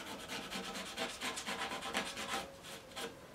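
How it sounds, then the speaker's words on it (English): A blade scraping a surface by hand, a rapid series of short, rasping strokes in a steady rhythm, close and fairly quiet, with no talking. "let's scrape that off"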